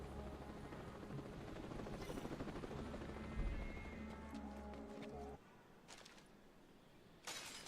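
A video game helicopter drops off troops, its rotor thudding loudly as a low continuous drone before cutting out abruptly, followed by sparse game sounds.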